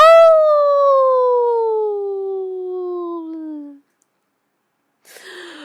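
A long, loud, mournful cartoon howl slowly sliding downward for several seconds, then silence, followed by a brief burst of noise.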